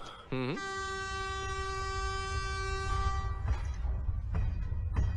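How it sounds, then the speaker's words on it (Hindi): A train on railway tracks sounds a loud, sustained horn close by, with a steady rumble of the approaching train underneath. "हे करण, ये तो ट्रेन की आवाज आ रही है।"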